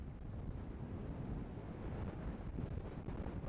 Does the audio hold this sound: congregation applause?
no